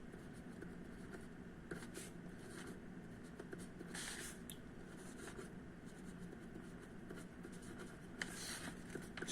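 Chalk or pen writing during a maths lecture, faint scratchy strokes in short bursts against a quiet room hum, no talking.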